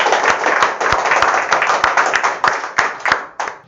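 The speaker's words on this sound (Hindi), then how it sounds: "तो जोरदार तालियों से स्वागत किया जाए" An audience claps loudly and steadily to welcome a student at a gathering of Bihar Board 12th exam students, many hands close together in a dense, even run of sharp claps that thins out near the end.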